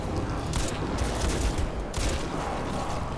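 Steady rattle of automatic gunfire during a Crysis 2 firefight, moderately loud and continuous, with a couple of sharper bursts standing out from the dense battle noise.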